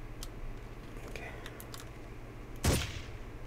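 Enemy gunfire in the Ghost Recon video game, one sharp, loud shot standing out near the end over low game ambience and faint clicks.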